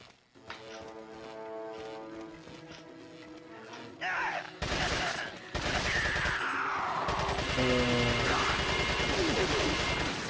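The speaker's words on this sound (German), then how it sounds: "Scheiße, voll viele Schüsse daneben." Rapid bursts of TMP submachine gun fire in the video game Resident Evil 4, loud and dense over game music and effects, with someone talking through parts of it.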